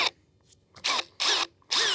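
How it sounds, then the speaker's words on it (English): A power drill with a half-inch bit bores into a wooden fascia board on a deck build, giving three short high-pitched whirring bursts separated by brief pauses, loud and close, with no talking. "I'm just gonna put it over the tops of these two marks"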